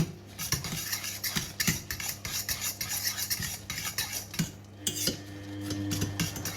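A spoon stirs mashed potatoes in a pot, making repeated soft scraping and clinking strokes close by, with a low steady hum underneath.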